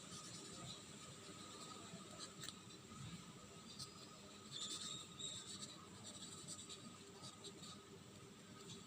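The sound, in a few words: pen writing during an accounting class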